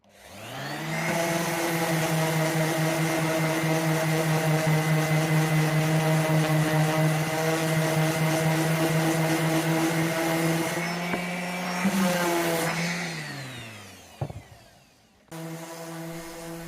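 An epoxy table top is sanded with 40 grit sandpaper by a power sander, which gives a loud, steady whine close by for about ten seconds, then spins down, cuts out briefly and starts up again.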